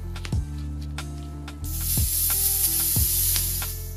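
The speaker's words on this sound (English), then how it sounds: "make sure you let the air out from the air spring" Air released from the valve of an RST F1RST air fork's air spring, a sudden loud hiss that starts partway through and continues steadily, mixed with a few low mechanical clicks.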